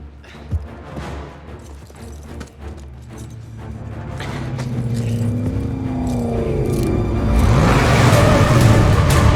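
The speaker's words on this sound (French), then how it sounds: "appuyez sur le frein, on va démarrer la voiture" A car engine starts and is driven off during a tense getaway, with a rising rumble and revving building steadily louder over the whole stretch, mixed with bangs and scraping noises early on.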